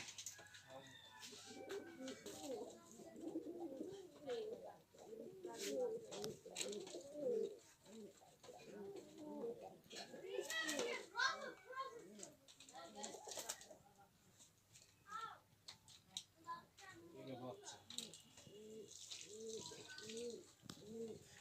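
Native pigeons on a pigeon farm coo repeatedly in a low, murmuring chorus, mixed with people talking nearby and general background bustle.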